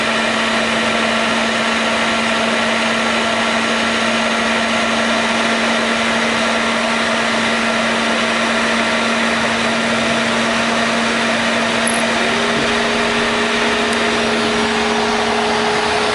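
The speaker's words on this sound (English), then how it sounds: "As you can see, the fan's spinning." A car's electric radiator cooling fan spinning steadily under the hood after a rodent-damaged wiring repair, a constant loud whirring hum with a steady tone that shifts slightly in pitch near the end.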